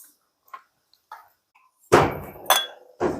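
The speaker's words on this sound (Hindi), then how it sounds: "ये जो गिलास वगैरह है कांच के, ये मम्मी को पकड़ा दूंगी" Glass tumblers clinking as they are handed over during household Diwali cleaning, a few soft taps early, then three sharper, louder clinks and knocks close by.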